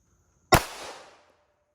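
A single loud, close gunshot from a .40 caliber pistol firing a 180-grain bullet at a knife blade, a sharp crack followed by a short decaying echo, with no other sound around it.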